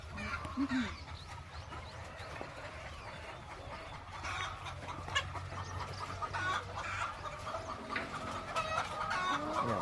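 Chickens cluck steadily in a noisy poultry house on Bantayan Island, Philippines, many birds overlapping at a constant murmur with scattered louder calls, no talking.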